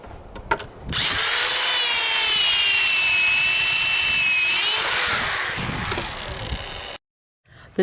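A power driver sends a 1.5-inch pocket hole screw into plywood in one loud, close, steady whir lasting about six seconds, the pitch shifting as the screw seats, followed by silence.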